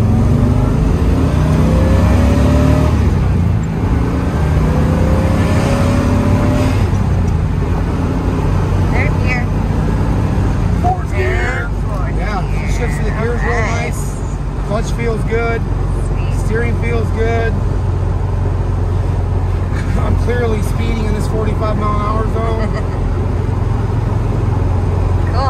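A 1970 Chevrolet Corvette drives with its engine rumbling loud and steady, swelling in revs at times, with traffic around and someone talking over the engine noise.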